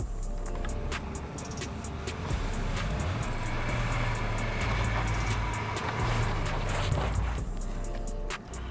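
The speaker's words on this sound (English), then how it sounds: "the Tribeca rolled back to conquer this climb with preliminary acceleration" A Subaru Tribeca SUV accelerates up an off-road climb, its engine a steady low drone that rises in pitch, heard from nearby with clattering of the terrain and no talk.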